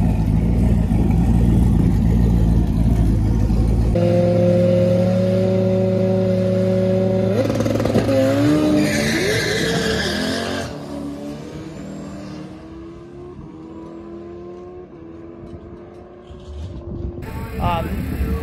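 A twin-turbo LS-swapped Ford Ranger at a drag strip track day, a loud close engine roar that climbs through rising revs and shifts, then fades as the truck pulls away, with a voice talking over parts of it.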